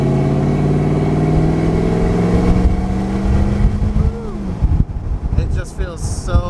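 A Lexus GX470 SUV engine, freshly throttle tuned, pulls steadily with a loud rising drone heard from inside. Its pitch climbs and then eases off as the gears shift, and a brief voice comes through near the end.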